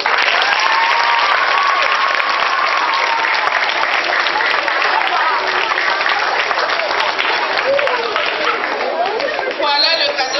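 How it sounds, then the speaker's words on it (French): A primary school audience applauds a dictation contest winner at a prize ceremony, loud sustained clapping mixed with children's chatter and shouts, crowded and close throughout. "Est-ce que nous pouvons encore applaudir?"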